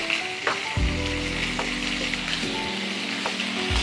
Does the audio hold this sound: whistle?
no